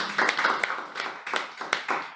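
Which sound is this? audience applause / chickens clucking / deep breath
audience applause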